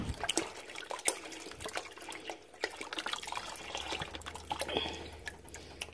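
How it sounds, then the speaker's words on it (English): Water pours steadily into a pot of bean soup with ham hocks, a continuous splashing trickle with small drips, close and fairly quiet with no talk. "I can put this water in there."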